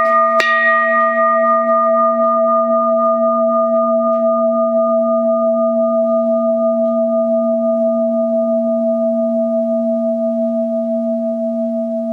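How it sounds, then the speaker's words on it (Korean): A single bell is struck once at the start of a Buddhist meditation, then rings on alone as a long, steady tone that fades slowly over about twelve seconds in a quiet room. "종소리 들으면서 1분 동안만 명상하죠"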